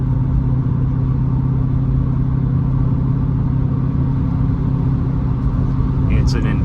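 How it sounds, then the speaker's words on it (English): A 1988 Porsche 928 S4 cruises on Central Texas country roads, heard as a steady low engine hum and road rumble from inside the car. The tone holds constant, with a faint brief rustle near the end. "drive these roads in an '80 Triumph Spitfire versus in the '88 928 S4"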